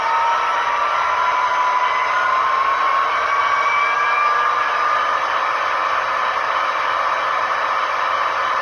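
Athearn Genesis SD70 Norfolk Southern model locomotive with a Tsunami 2 sound decoder, its diesel engine sound notched up to a high idle: a steady whining drone with a rising tone, continuous and close.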